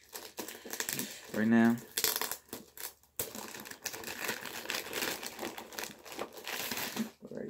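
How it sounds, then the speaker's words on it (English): Thin plastic packaging crinkles and crackles in short bursts as Youtooz collectible figures are pulled from their wrappers, with a person talking over much of it. "just taking them out of their little plastic"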